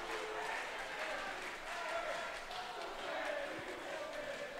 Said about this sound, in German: jetzt jubeln hinten die Slowaken